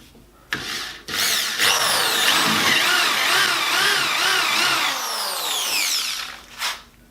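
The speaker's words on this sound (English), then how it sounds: "Drill a hole." A power drill bores a hole in a wooden box during a woodworking job: a short start, then about five seconds of loud, close, revving whine with grinding chatter as the bit cuts through the wood, then a brief run-down.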